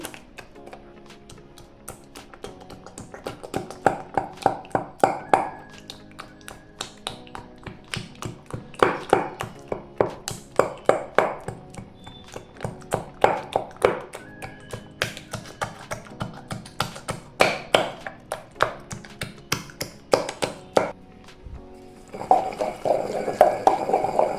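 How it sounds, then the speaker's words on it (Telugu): Brinjal chutney pounded by hand in a mortar: a steady run of sharp, close knocks and taps in uneven bursts, with no talk throughout. "మెల్లగా దంచుకోవాలి."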